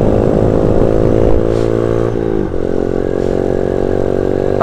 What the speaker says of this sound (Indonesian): Soalnya kita pakai motor trondol kayak gini ya guys ya